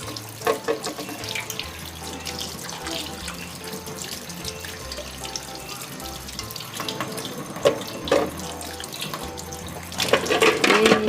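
Tap water runs steadily into a sink while eggs are rinsed and rubbed under the stream, with occasional clinks and splashes near the end.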